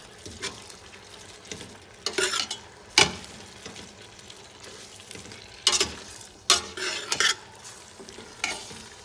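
Fresh green beans with bacon cooking in a pan, a quiet low sizzle broken by several sharp scraping stirs and clatters of a utensil against the pan, with no talking.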